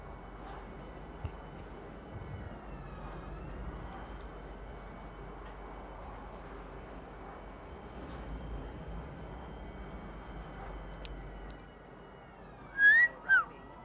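A train ride in the Star Citizen video game, with a steady low rumble and hum running throughout, faint tonal whines, and a couple of brief louder bursts near the end.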